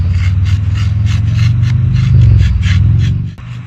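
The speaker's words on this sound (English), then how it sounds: "our next step is we take this wooden stick and we want to scrape off all the buildup" A wooden stick scrapes buildup off a veteran grave marker in steady, rhythmic rasping strokes, close and loud, with no talking.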